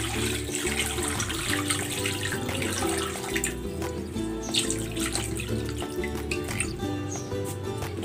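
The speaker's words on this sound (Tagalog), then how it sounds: "Maglalagay ako ng tubig." Water runs steadily from a tap into a pan holding pork ribs, a continuous splashing, trickling stream close by with no talking.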